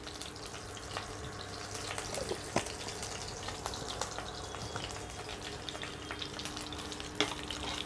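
Black cumin seeds frying in a wok for hilsa fish pulao, a soft steady sizzle broken by light scattered crackles and a few clicks, quiet and close with no talking.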